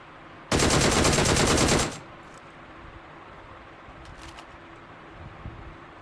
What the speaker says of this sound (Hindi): फायर दे रहा है